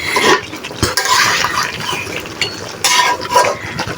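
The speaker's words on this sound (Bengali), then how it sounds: "দেখো এটা আমি ভালো করে কষিয়ে নিচ্ছি" Beef with spices and yogurt being stirred and sautéed in a pot, with loud, close scraping and clattering strokes in irregular bursts.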